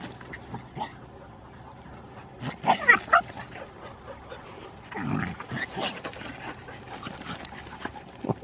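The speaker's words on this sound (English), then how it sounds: "Now the dogs have come back and making a bunch of racket" Several dogs bark and yip in short bursts, with panting and whimpers in the gaps, fairly close but not loud.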